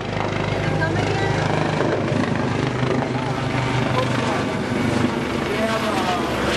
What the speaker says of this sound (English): that's one of the dolphin helicopters